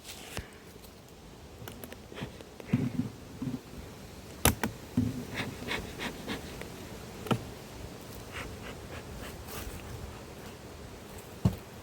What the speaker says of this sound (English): I'm just trying to get all these bees off these frames I've just taken out